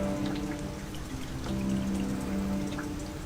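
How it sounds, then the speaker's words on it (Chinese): Steady rain falls around a palace courtyard setting in imperial China, a continuous soft patter with a low hum beneath, fairly even throughout. "下雨了"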